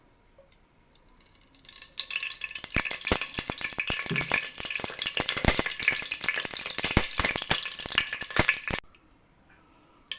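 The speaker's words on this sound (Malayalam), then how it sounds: "നമ്മുടെ ചട്ടി ചൂടായിട്ടുണ്ട്. ഇച്ചിരി എണ്ണ ഒഴിച്ച് കൊടുക്കുവാണേ." Loud, steady sizzling and crackling as oil is poured into a hot pan, rising suddenly after a quiet start and cutting off near the end, with no voices.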